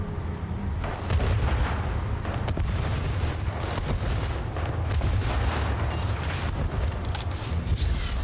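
Video game bombing explosions rumble continuously, a deep, dense barrage of booms and blasts that stays loud and steady from start to finish.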